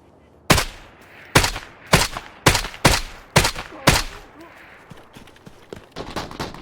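Gunfire in the Arena Breakout shooter game: seven loud, sharp shots in an uneven rhythm over about four seconds, followed by fainter, more distant cracks.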